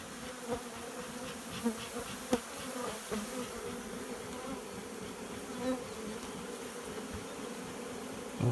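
Honeybees in a nuc hive hum steadily in a thick swarm, close by, with occasional louder buzzes as individual bees pass near.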